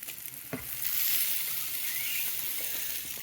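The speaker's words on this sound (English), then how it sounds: "If you want to hear it make that like a sizzling sound, just press down on it a bit." Spam frying in a pan: a bright, steady sizzle that swells after a brief tap and then holds at an even level, close and alone.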